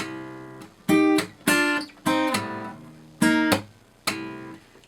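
Six strummed acoustic guitar chords ring out one at a time at a slow, uneven pace, each struck sharply and left to decay.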